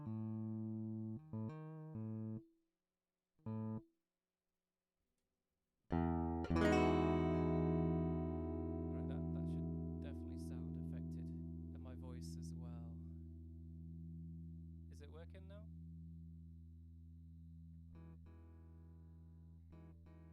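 An electric guitar with a delay effect, in a math rock style: a few short plucked notes, a pause, then a louder chord that rings and sustains with repeating echoes trailing off.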